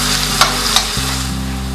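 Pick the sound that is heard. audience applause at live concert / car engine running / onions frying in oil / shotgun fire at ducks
onions frying in oil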